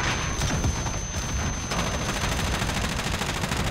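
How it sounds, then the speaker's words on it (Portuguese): Heavy gunfire from many players in Call of Duty, dense overlapping bursts and rapid shots forming a loud, continuous barrage with no talking. "Tem uma porrada de gente atirando, né?"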